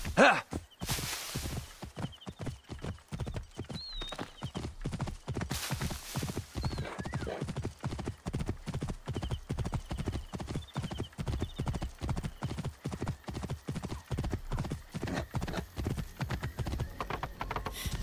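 Steady clip-clop of a horse's hooves walking at an even pace throughout in Assassin's Creed: Origins, with the horse whinnying near the start and a few faint game sounds.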